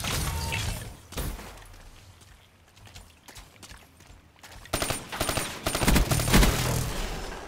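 Bursts from the XR2 burst rifle in Call of Duty Black Ops III: one short volley, a quieter lull with background battle noise, then a louder run of rapid multi-round bursts close by.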